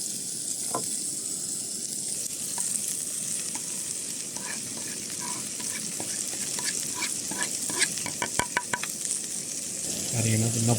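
Chopped mushrooms fry in a knob of butter on a Fire-Maple Blade 2 camping stove, a continuous close sizzle with scattered pops and crackles that grow busier toward the end.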